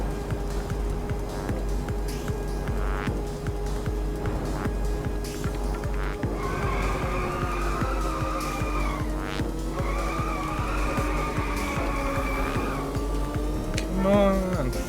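Race car drifting in the twin-stick PC racing game Inertial Drift, a steady engine drone with long tire squeals rising and falling through the corners, under a player's voice.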